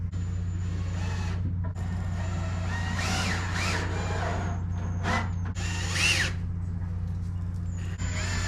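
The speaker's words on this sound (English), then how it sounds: "We're going to go ahead and screw them together now." A power drill drives screws into a window well cover frame in repeated whirring bursts with rising pitch sweeps, close and loud over a constant low motor hum.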